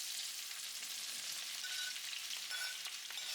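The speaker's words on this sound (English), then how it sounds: "let's go ahead and add our veggies, saute them for a little bit before we go ahead and add the fish" Vegetables sauté in hot oil in a pot for a steamed fish dish, a steady broadband sizzle that holds close and even throughout, with faint clinks of stirring near the end and no voices.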